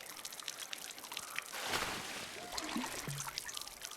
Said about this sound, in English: Now we'll water it with something good.